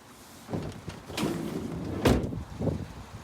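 The side entry door of a Peugeot Partner 1.2 PureTech long panel van is handled, giving a few close thuds and rattles, with one sharper clunk near the end.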